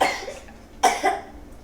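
Two short, sharp coughs, close by, separated by a brief pause, with quiet background in between.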